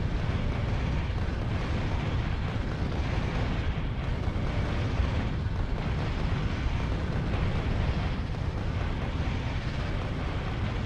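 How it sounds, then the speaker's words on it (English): Constant roar of rocket explosions from the video game Factorio, blending into a dense, continuous rumbling barrage at steady loudness, with no single blast standing out and no talk. "I'm just lobbing rockets at them"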